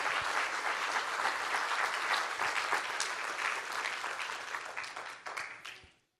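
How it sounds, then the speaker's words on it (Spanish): A church congregation applauds during a Spanish-language Thursday sermon, a dense, steady wash of many hands clapping for about six seconds before tapering off at the end, with no talk over it. "Dele un aplauso al Señor porque se lo merece."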